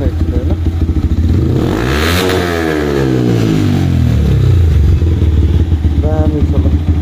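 A modified race motorcycle with an altered exhaust revs hard close by, climbing and falling in pitch with crackling pops at the end, under continuous engine noise and some talk.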